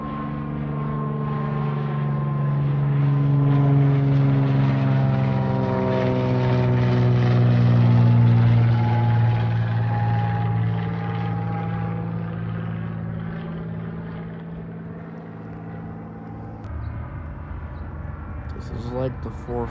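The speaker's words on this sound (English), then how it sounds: "This is like the 4th plane I've seen today." A propeller plane passes overhead, its droning engine swelling loud and close, then slowly fading as it moves away, with the low hum steady throughout.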